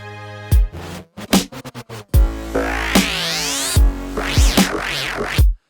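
Aggressive bass patch built in Serum from wavetables, loud and alone, playing a rhythmic sequence of punchy hits and sustained notes with sweeping, growling harmonics and wobbling tonal movement.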